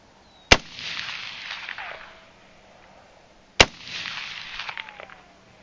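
Two sharp, loud AR15 rifle shots about three seconds apart during a mud test outdoors, each followed by a fading echo and distant rolling report.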